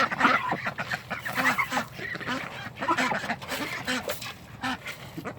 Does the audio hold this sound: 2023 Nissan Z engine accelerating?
no